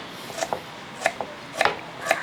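A knife cutting ginger into thin slices, producing faint, crisp taps in uneven pairs against a quiet background, about four separate cuts.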